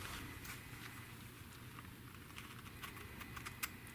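Sharpened shears snip dry with light pressure, giving a string of faint, quiet clicks and cuts spread over a few seconds.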